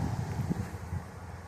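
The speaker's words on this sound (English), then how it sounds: "it's kind of windy outside" Wind blowing outdoors, a steady low rumbling buffet across the microphone with faint rustling, continuous and fairly loud throughout.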